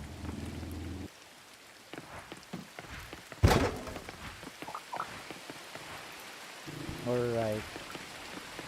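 Rain falls in the video game Coral Island, a soft steady patter under scattered game clicks and one sharp thunk, with a person briefly talking over it.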